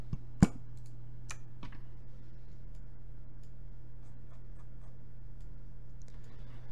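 Mouse and keyboard clicks while working in CAD software: one sharp, close click followed by a few fainter, sparse ticks over a steady low electrical hum, with no talk.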